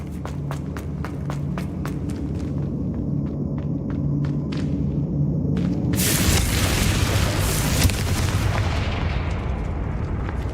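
In the Hogwarts Legacy video game, a Confringo blasting spell goes off after a run of sharp clicking impacts and rumbles, bursting into a loud, broad explosive roar that fills the rest of the moment.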